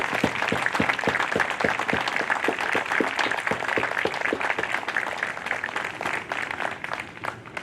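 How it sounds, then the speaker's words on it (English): An audience of family and friends at a Navy graduation ceremony for newly promoted third-class petty officers applauds continuously, with dense overlapping claps at moderate loudness that thin slightly toward the end. "Family and friends, please join me in a round of applause for the Navy's newest third-class petty officers."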